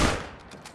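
A single gunshot cracks in a hunting video game, loud at the start and then fading into a long, echoing tail with faint distant reports.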